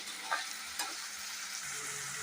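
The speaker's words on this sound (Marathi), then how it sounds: "आता मी कांदा टमॅटो आणि हिरवी मिरची भाजून घेणार आहे तेलामध्ये" Steady, close sizzling of onion, tomato and green chili frying in hot oil, with a couple of brief clinks of stirring over the constant hiss.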